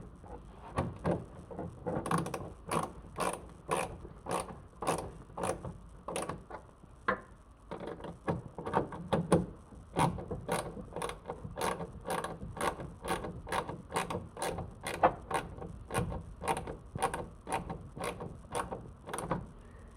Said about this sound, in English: Grab your wrench and screwdriver and just snug everything down.